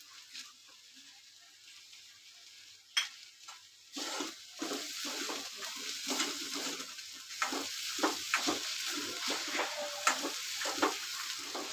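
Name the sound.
stirring masala into onion vegetable in a pan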